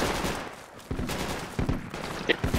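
Enemy gunfire in the military shooter Project Reality, a few scattered, moderately loud shots with background rumble and no one speaking.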